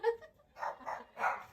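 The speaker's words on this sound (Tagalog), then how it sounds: "Ang dami mong alagang aso." Several dogs at a home give a few short, faint barks and yips in quick succession, somewhat distant and quiet.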